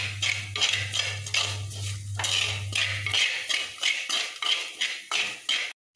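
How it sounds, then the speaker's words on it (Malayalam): Salted lemon pickle masala stirred in a pan, a brisk run of repeated metal spoon scrapes and clinks against the pot, close and loud, over a low hum that drops out halfway. "ഉപ്പിട്ടതിന് ശേഷം നന്നായി ഇളക്കി കൊടുക്കാം"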